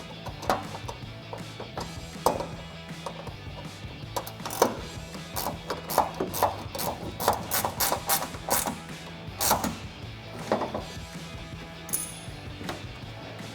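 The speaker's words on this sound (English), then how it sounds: "I'm going to be taking this angled ratcheting wrench" Angled ratcheting wrench tightening a headlight bolt on a 2019-2023 RAM 1500, giving quick bursts of sharp clicking with short pauses between strokes, close and fairly quiet.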